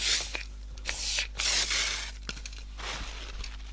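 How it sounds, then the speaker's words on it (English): A few short hissing bursts from a spray bottle of cleaner onto leather boots, close by, separated by brief pauses and small handling noises. "Another spray to lift all the stuff out,"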